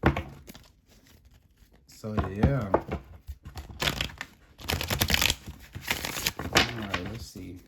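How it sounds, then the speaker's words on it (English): Tarot cards shuffled by hand in a loose, messy style, a run of papery riffling and crinkling bursts that come and go between stretches of talk from a nearby speaker. "let's go ahead and shuffle"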